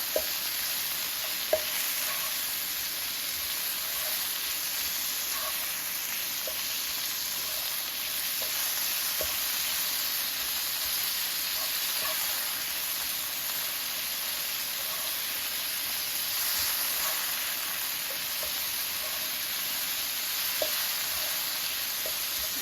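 Shrimp frying in a hot pan give off a continuous, even sizzle with a few faint clicks and pops, close up and steady throughout, no voices over it.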